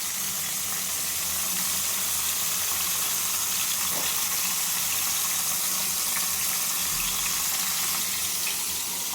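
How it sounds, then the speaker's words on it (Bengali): Katla fish pieces shallow-frying in hot oil, a loud, steady, hissing sizzle that holds unbroken throughout, close to the pan. "এভাবে মাছগুলোকে হালকা হালকা করে ভেজে নেব বন্ধুরা।"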